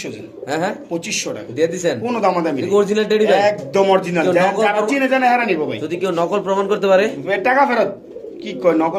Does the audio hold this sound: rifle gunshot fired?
no